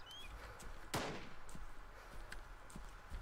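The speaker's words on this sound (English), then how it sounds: "I can hear you shooting!" Gunfire in the DayZ video game on the Taviana map: one sharp, loud shot stands out, followed by fainter, more distant pops at irregular intervals against a steady ambient hiss.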